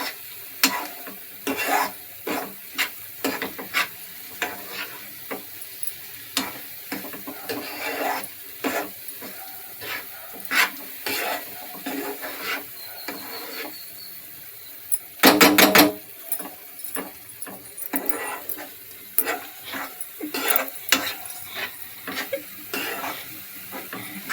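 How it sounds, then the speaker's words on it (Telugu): Coconut laddu mixture stirred in a pan, a steady scraping and sizzling with repeated spoon strokes against the metal, close and continuous, plus a brief louder clatter midway. "ఉండ గట్టి పడేదాకా అలా కలుపుతూ ఉండాలి"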